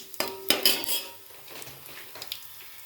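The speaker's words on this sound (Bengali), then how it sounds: "এই দেখো মুগ ডালটাও ভেজে নিচ্ছি এর মধ্যেই।" Moong dal being dry-fried in a pot with bay leaf and five-spice for khichuri gives sharp metal clanks and clinks of a spoon against the pot, then lighter scraping, close by.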